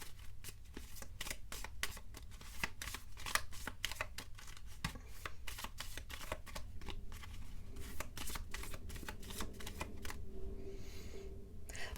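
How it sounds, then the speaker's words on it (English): A deck of Lenormand cards shuffled by hand, a long run of quick, crisp riffling flicks and slides, close and fairly quiet, with the rhythm loosening near the end. "let's take out your Lenormand cards. I want one more. Okay, let's shuffle."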